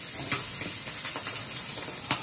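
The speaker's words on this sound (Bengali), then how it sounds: "এই যে মাছ ভাজা হয়ে গেছে, বোয়াল মাছ ভাজা" Boal fish frying in hot oil gives a steady close sizzling hiss, with a few brief louder crackles and spits rising above it.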